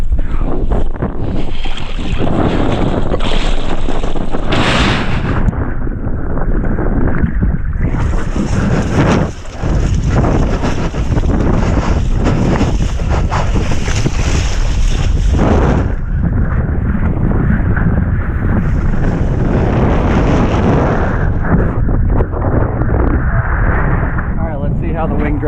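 Steady wind roars across the microphone over choppy, whitecapping water at about 11 knots while winging a Cabrinha Swift 5'8" board, a loud continuous rush with gusty swells.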